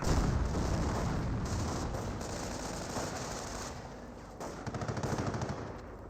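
A .30 cal machine gun emplacement fires across a World War II battlefield in the strategy game Company of Heroes, long sustained rattling bursts over rumbling battle noise, fairly faint and fading slightly, with no talk.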